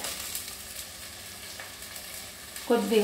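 Mint and coriander leaves frying in a pan for a chicken pulav, a soft steady sizzle with a louder burst of stirring near the end.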